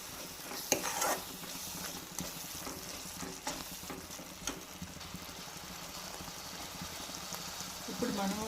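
Chili powder stirred into an egg gravy curry in a pan, soft frying sizzle under intermittent scraping and clinks of a spoon against metal, close by, with a voice speaking over it.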